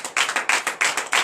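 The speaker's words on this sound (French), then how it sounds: "Donne l'acclamation au Seigneur" A congregation at a night deliverance and prophecy service in Comè, Benin, claps in acclamation of the Lord, a brief burst of strong, rhythmic hand claps in steady unison.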